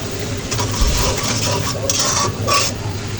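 Spiced small-fish curry masala frying in a pan, with a loud continuous sizzle and repeated scraping and clinking of a spoon against the pan as it is stirred.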